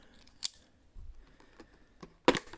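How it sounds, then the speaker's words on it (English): A knife slices and tears the plastic wrap off a boxed Nintendo Switch controller, giving a few brief scrapes and crinkles followed by a louder snapping cut near the end, close and quiet with no talk. "See if I can get the plastic off without cutting my fingers."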